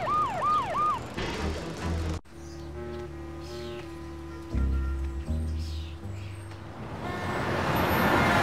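In the Family Guy video game, an ambulance siren wails with a rising and falling tone before cutting off abruptly, after which steady music plays with sound effects swelling toward the end.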